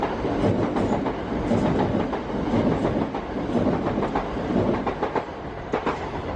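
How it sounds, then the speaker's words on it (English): Train running out of Victoria toward Gravesend rolls past at moderate distance, a steady rumble with rhythmic clickety-clack wheel beats over the rails throughout. "There's a train coming past over there, coming out of Victoria. That's going down towards Gravesend."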